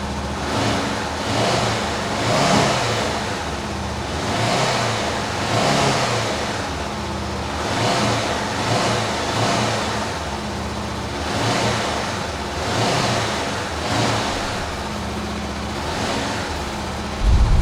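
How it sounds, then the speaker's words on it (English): A low-mileage Honda CB500F motorcycle engine starts and idles steadily for several seconds, with a low rumbling drone and rhythmic pulsing, fairly close, no voices. "let's start this up, listen to it run."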